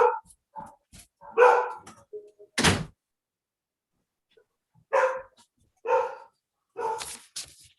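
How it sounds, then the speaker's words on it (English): A dog barks in repeated bursts, some in quick doubles, with a sharp thud and long silent gaps, heard as background noise during an online town planning board meeting. "bark in the background"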